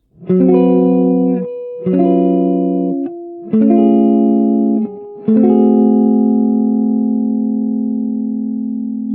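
A slow sequence of four strummed guitar chords, each ringing out before the next, the last one sustaining and fading gently.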